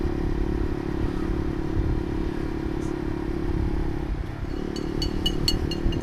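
A Honda CBR150R fitted with a Ronin Katana racing exhaust sits at a steady, throbbing idle close by, a continuous low rumble with a few light ticking clicks near the end.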